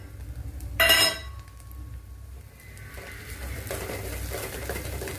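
Black masala paste with turmeric being sautéed in a pan for a drumstick vegetable dish, a sharp metallic clink of utensil on pan near the start followed by soft stirring and a low sizzle, no talking.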